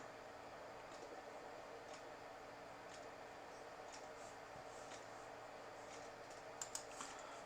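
Soft, faint keystrokes tap irregularly on a computer keyboard during Active Directory domain controller setup, with a few slightly louder clicks near the end and no talking.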